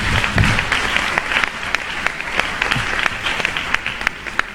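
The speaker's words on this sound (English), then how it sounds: "Please let us give a hand of applause to God Almighty." Audience at an annual civil lecture breaks into sustained applause, a dense steady clapping from a large crowd with sharper individual claps standing out, loud and continuous throughout.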